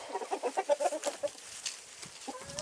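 Chickens and a rooster inside a coop converted from an old barn give a quick run of clucks and short calls, close and moderately loud, trailing off into scattered softer clucks.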